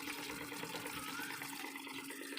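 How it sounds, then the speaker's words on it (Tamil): Water rushes steadily from the output of a water filter, a faint continuous hiss and splash heard up close with no talk. "தண்ணி இப்போ அவுட்புட்டில் பாருங்கள் எவ்வளோ ஸ்பீடாக வந்துட்டுருக்கு பாருங்கள்"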